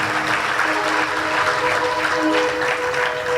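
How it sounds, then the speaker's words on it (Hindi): Audience at a Hindu religious discourse by Pandit Vijay Shankar Mehta breaks into loud, sustained clapping, a dense even wash of applause filling the whole stretch with no voices on top. "जरा जोरदार ताली बजाइएगा"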